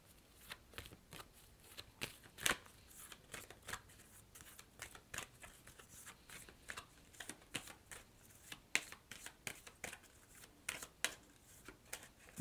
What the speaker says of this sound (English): I'm shuffling your yes or no card from the Angel Answers deck